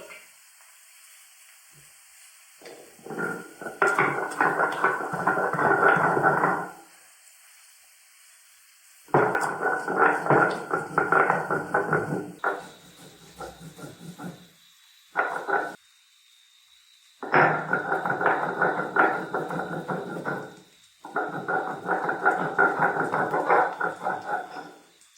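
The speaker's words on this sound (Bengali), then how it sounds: "আদা, রসুন, কাঁচা লঙ্কা এগুলোকে একসাথেই আমি পিষে নেব" Rhythmic scraping strokes of ginger, garlic and chillies being ground on a stone, in several bursts separated by pauses, with a faint hiss in the background.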